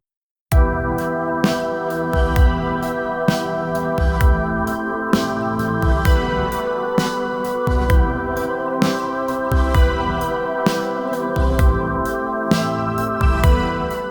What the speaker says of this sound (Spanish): Y el modelo reentrenado con el mismo prompt suena así.